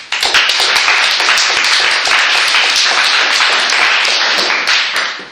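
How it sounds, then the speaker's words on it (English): An audience applauds panelists at an artist fellowships and residencies talk, with steady, dense clapping from many hands, loud and sustained throughout before easing slightly at the very end. "Can we give them a round of applause?"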